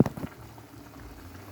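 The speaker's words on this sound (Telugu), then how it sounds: "ఇట్లా కొద్దిగా హై ఫ్లేమ్ని పెట్టేసి ఉడికించాలి" Chicken curry bubbles over a high flame, a soft close simmer after a brief clatter at the start.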